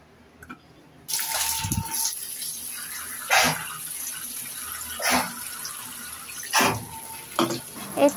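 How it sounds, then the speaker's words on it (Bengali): Water pours steadily from a tap onto masoor lentils set to soak, a continuous close splashing rush with a few louder gushes and small knocks. "এই তো পর্যাপ্ত পরিমাণে পানি দিয়ে ডাল ভিজিয়ে রাখলাম।"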